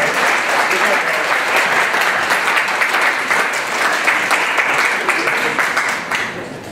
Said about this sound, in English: can everybody please give a big round of applause for Senator Lodge.